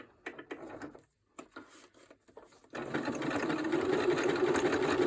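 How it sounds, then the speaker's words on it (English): A sewing machine stitches fabric during free-motion doodling, first in short bursts with pauses, then settling into a steady, close, continuous whirring run. "You're in charge of your machine, make it work for you."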